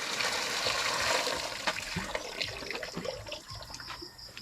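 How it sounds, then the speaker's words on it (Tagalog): Water scooped with a dipper, sloshing and pouring in a continuous wet splash that settles into lighter trickles and drips. "nagtatabo ng tubig"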